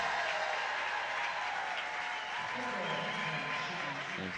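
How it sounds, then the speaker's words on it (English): Crowd at a women's college basketball game applauding and cheering, a steady wash of clapping in a gym heard under an announcer talking. "Get another round of applause. Got another large cheer out of the crowd here."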